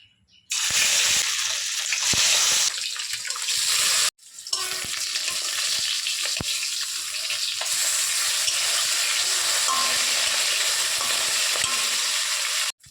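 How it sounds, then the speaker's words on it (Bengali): Rohu fish frying in hot oil gives a loud, steady, close sizzle that cuts out briefly around the four-second mark and then resumes, with occasional scrapes from stirring. "তেল গরম হয়ে গেছে, মাছগুলো প্রথমে ভেজে নেব"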